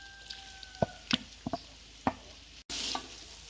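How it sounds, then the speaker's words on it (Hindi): Vegetables being stirred in a pan for macaroni, a soft sizzle under a handful of separate knocks and scrapes of a spoon against the pan, then a brief gap and a louder burst of hissing. "इसको अच्छी तरह मिक्स कर देंगे।"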